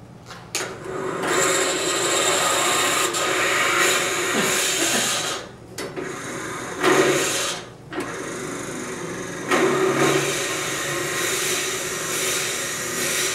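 Drill press boring into wood for a candlestick, now with a smaller bit about a quarter inch narrower, cutting tougher end grain: a steady grinding whir, close and fairly loud, with short dips as the bit eases off and bites again.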